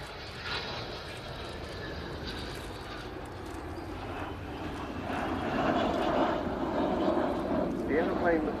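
Avro Vulcan B2 XH558 V-bomber making a display pass at an airshow, a broad sustained jet roar that swells louder as it heads back in toward the crowd, with a commentator's voice over it.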